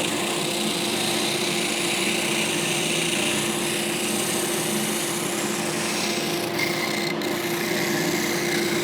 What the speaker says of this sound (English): now I'm ready to turn on the tool